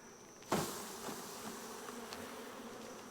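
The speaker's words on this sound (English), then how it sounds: "you shake the bees down" Honey bees shaken down from a hive frame for a mite wash: a sudden thump, then a faint, steady buzz of the swarm that carries on alone to the end.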